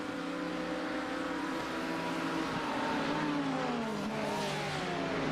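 Several Le Mans prototype race cars in a racing sim video game pass with steady engine drone and shifting pitch, overlapping engine notes rising and falling as they go by, continuous and fairly loud with no talk.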